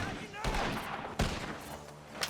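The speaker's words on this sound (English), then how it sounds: "The gunshots are coming from that barn!" Sharp gunshots crack out in Red Dead Redemption 2 gameplay over a busy, noisy background, with one loud report in the middle and another near the end, while voices speak.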